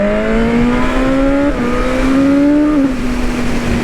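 A BMW M 1000 R motorcycle engine revs hard and loud up close, its pitch climbing in steady surges with two brief dips at gear changes, sustained and unbroken with no talk.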